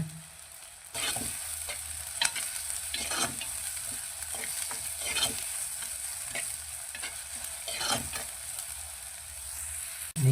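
Onions fry in a pan with crushed garlic and ginger, giving a steady sizzle under repeated stirring scrapes and spoon taps across the whole stretch, with no speech.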